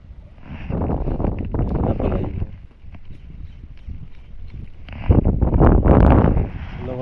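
Heavy rain and gusting wind buffet a small boat during a fishing trip, a broad rushing roar that swells loudly at the start and again near the end, with a quieter lull between.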